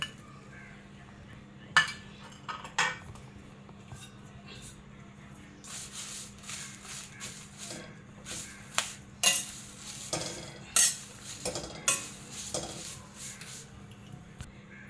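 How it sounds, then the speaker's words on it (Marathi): Curry leaves roast in a pan for a curry-leaf chutney, with a low background hiss under a run of sharp scraping stirs and utensil clatter that grow more frequent toward the end. "मी हा कढीपत्ता आहे हा पण आपल्याला चांगला भाजून घ्यायचा आहे"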